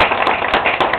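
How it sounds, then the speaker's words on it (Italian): Applause in an osteria, a small group clapping in quick, uneven claps, close and fairly loud, with no talk over it. "è dedicato al papà di Angelo, al quale io vorrei dedicare un sincero applauso."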